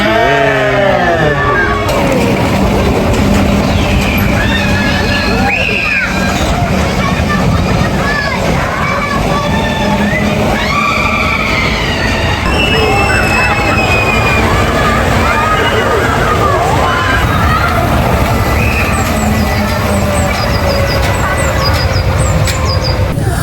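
A ride on the Runaway Mine Train family roller coaster at Alton Towers, with constant rumbling, clattering track noise and wind, over which many riders chatter and shout in a busy mix.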